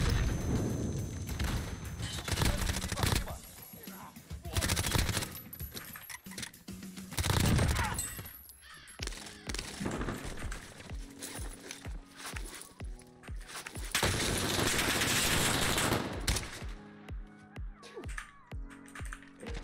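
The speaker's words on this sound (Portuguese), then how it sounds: "Tem alguém na esquerda atirando neles, velho. Tem outro esquadrão tretando aqui" Another squad's gunfire in Call of Duty Warzone: several rapid bursts of shots crackle at mid-distance, mixed with game noise and clicking.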